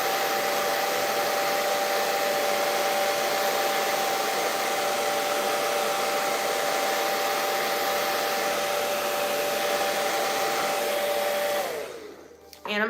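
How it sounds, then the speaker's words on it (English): A blow dryer on its cool setting, drying hair spray, runs as a loud, steady whoosh with a thin whine, then switches off near the end and winds down to quiet. "I'm using a cool setting on my blow dryer to tack down the spray."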